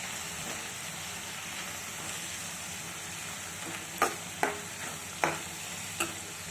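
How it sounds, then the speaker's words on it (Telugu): Shredded cabbage with moong dal and a spoon of salt is stirred in a pan, a quiet, even sizzle for several seconds, then a few distinct spoon scrapes and knocks toward the end. "ఒకసారి బాగా కలుపుకుందాం"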